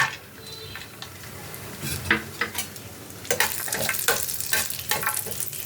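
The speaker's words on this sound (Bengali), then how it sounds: "তারপরে কাজু বাদামগুলো একটু আমি রোস্ট করে নেব" Cashew nuts roast in ghee with crushed cardamom, a soft sizzle punctuated by scraping stirs and sharp clinks of a spoon against the pan, growing busier toward the end.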